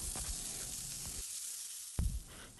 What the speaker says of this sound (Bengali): এবার শিমটাকে ভালো করে লাল লাল করে ভেজে নেব।